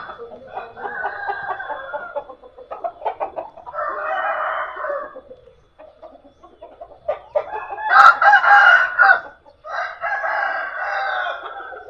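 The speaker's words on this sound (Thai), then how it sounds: "ไม่ได้ฟาร์มไก่ชนเด้อแต่มีแต่ไก่ชน" Fighting cocks kept at a Thai home crow repeatedly and loudly, several long crows in a row with clucks and shorter calls between them, close by and with no talk over them.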